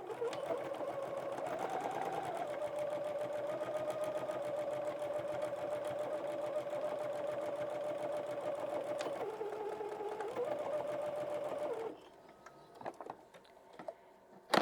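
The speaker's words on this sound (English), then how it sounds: "And then I just want to sew those together this direction." A sewing machine joins pieces of a pumpkin T-shirt project, humming in one continuous steady run for about twelve seconds with a brief change in pitch midway, then stopping, followed by faint clicks and handling.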